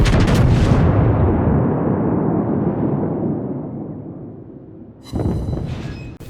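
Heavy battleship main guns firing in the World of Warships naval combat game, a loud booming salvo that rolls off over several seconds before a second sharp blast cuts in.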